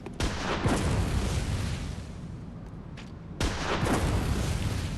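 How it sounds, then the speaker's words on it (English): Enemies fire at the player in the dark action game Bloodborne, a loud, dense roar of gunfire and blasts that runs almost unbroken, with a brief dip before surging again. "Are you both shooting me?"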